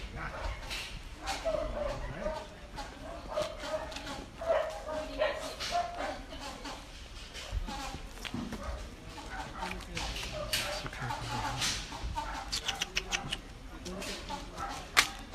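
Several dogs bark, yip and whimper near and far after being let out of cages on a truck, in bursts of sharp barks through the clip, with people talking over them.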